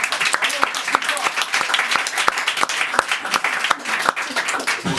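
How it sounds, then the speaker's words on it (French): A comedy show audience breaks into strong, sustained applause, many close hands clapping densely with a few voices mixed in. "Non mais applaudir, on peut y aller, hein."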